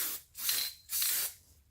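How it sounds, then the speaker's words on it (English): Two short bursts of aerosol Loctite spray hiss onto a stainless steel tumbler, close and fairly quiet, each lasting about half a second. "So I'm just gonna spray that center."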